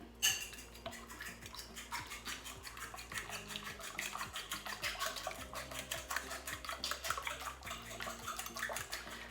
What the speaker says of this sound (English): and then some chopped coriander, and I'm going to mix it